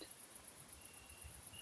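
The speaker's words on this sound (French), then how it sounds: "Le chant des grillons va continuer pendant quelques minutes." Crickets chirp in a rapid, even pulsing trill, high-pitched and continuous, over a faint low background hum, with no voices present.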